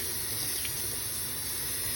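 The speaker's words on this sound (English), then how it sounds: "So here's a second round of cold water, and I just kind of drain it out a little." Cold water runs steadily from a tap over cooked broccoli in a sink, a continuous even hiss and splash heard close and alone.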